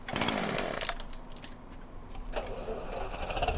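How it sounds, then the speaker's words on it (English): A chainsaw revs in Farming Simulator 2017 on the Goldcrest Valley map: a loud, buzzing burst at first that drops to a steadier, quieter running drone, with faint voice sounds in the background. "Get out of the vehicle and immediately wield the chainsaw"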